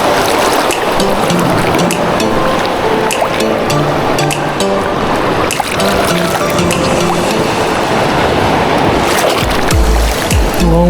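Steady roar of sea waves breaking and washing in, loud and continuous, with a low rumble near the end.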